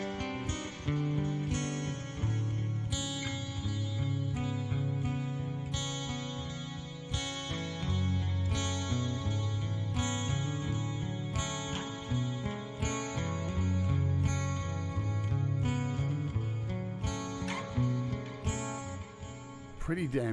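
Electric guitar played through an iOS amp-simulator preset with compressor, delay and chorus, ringing out as a dense, sustained run of chords and notes with a smooth, shimmering tail, steady and close throughout.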